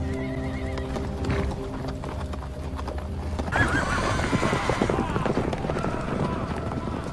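Horses in a Game of Thrones scene, a loud whinny followed by a busy clatter of hooves on the ground, with voices talking over the sounds.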